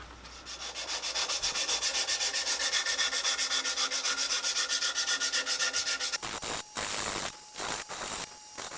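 Sandpaper rubbing back and forth on the wooden neck of a homemade cigar box guitar, a close rhythmic rasping of even strokes for about six seconds, then a few slower, separate scrubs.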